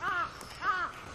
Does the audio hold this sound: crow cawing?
yes